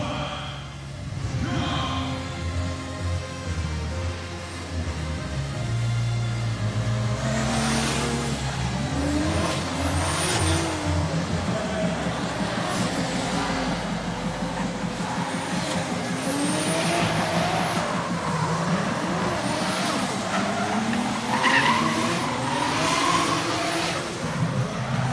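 A BMW drift car on a qualifying run at the FIA Intercontinental Drifting Cup in Japan, its engine revving loudly and continuously with rising and falling pitch and tyres squealing, heard for the full stretch with crowd-level background noise.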